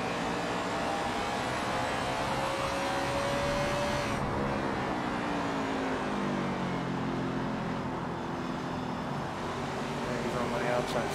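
Engine noise from race cars surrounding the player in the NASCAR 21 Ignition video game at Phoenix, a continuous loud roar with pitches sweeping past as cars run nearby.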